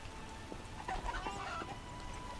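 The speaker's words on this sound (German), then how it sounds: "Irgendwo noch ein paar Hühner hoch," Several chickens in The Witcher video game make soft, scattered clucks over a faint ambient game background, with a few brief calls clustered in the middle.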